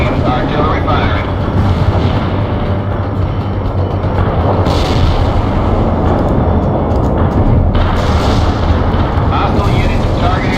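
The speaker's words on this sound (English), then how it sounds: "Artillery firing." Artillery pounds away in the World in Conflict battle, a loud continuous rumble of guns and blasts with heavier swells partway through.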